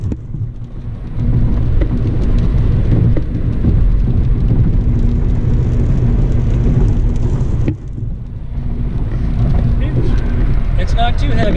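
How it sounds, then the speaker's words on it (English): Rain falls on a car driving through wet weather, a steady loud wash of drumming and road roar that runs throughout with a brief dip partway, and no clear voices. "like forecasted, we've got rain"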